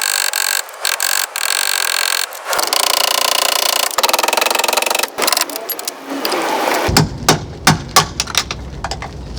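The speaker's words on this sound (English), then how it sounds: "I'll feed in the extension and then attach my socket to it, and then just hammer it from the top." Socket on an extension hammered to drive a door hinge bushing out of a 1988-1998 truck door, loud sharp metallic strikes over a mechanical din, then a quick run of separate blows near the end.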